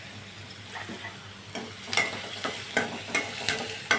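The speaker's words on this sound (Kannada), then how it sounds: "ಸ್ವಲ್ಪ ಕೆಂಪಾಗಲಿ ಈರುಳ್ಳಿ ಇದು." Onion fries in butter in a pan for a dhaba-style paneer curry, a soft steady sizzle broken by a series of rhythmic spatula scrapes and taps against the pan.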